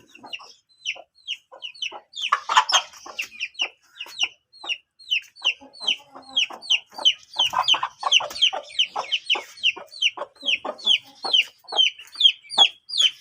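Cross-breed chicks and hens clucking and chirping close by in a rapid, continuous series of short calls, with no talking.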